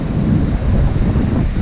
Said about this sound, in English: The winds are about 30 miles an hour and it's gusting probably to 50 to 60.